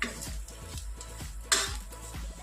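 Squid masala being stirred with turmeric in a pan, with a rhythmic scrape and clatter of a spoon against the pan about every half second and a louder clink near the middle, over a faint sizzle, with no talk.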